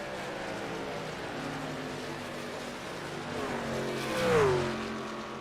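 Race car engines drone at Atlanta Motor Speedway in a sim racing game, a steady blended roar that swells briefly as one car passes close, then eases.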